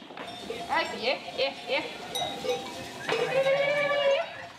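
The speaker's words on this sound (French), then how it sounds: "Le chargement des 1800 brebis doit se faire rapidement, car les bêtes ont faim." A large flock of sheep, some 1800 ewes, bleat repeatedly during loading into trailers, overlapping calls at varying pitches with a bell clanking, mid-distance with background bustle.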